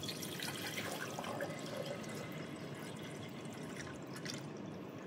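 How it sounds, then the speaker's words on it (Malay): Ultrapure water is poured into a container in a chemistry lab while silver nitrate solution is being prepared, making a steady, continuous splashing trickle at moderate volume with no talk. "saya ingin masukkan air Ultra Pure tadi ke dalam ini"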